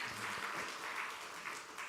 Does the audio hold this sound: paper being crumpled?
no